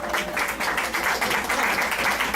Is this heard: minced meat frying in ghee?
no